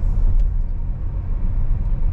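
A Tesla Model S being driven, heard from inside the cabin as a steady low road rumble and tire hum that stays even throughout, with no talking.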